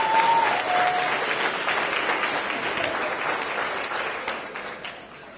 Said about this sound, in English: let's give the first couple of speakers a round of applause